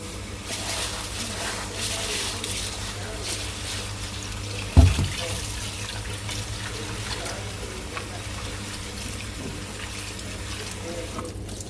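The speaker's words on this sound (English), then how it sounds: "always wash your rice, always" Rice is washed under a running kitchen tap, giving a steady splashing rush of water with one sharp knock of a pot or bowl midway.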